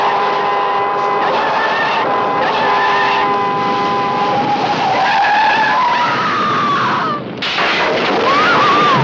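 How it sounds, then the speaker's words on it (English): Tyres screech loudly as a car skids out of control and smashes through a guardrail, a sustained high squeal with a harsh crash-like break near the end before the screech resumes. "heard the nerve-shattering screech of the tyres as the car skidded and went out of control"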